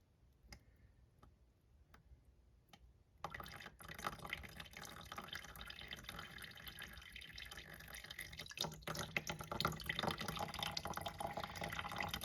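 Water drains out of a cutaway toilet bowl that is siphoning slowly through a restricted trapway, a close, steady rushing gurgle that swells after a few seconds and keeps going, with no talk over it.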